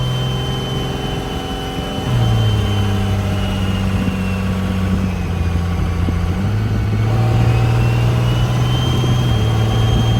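A Chevrolet squarebody pickup truck with a swapped-in Cummins diesel engine drones steadily while driving, holding a constant loud engine tone with a small shift in pitch partway through, and no voices are heard.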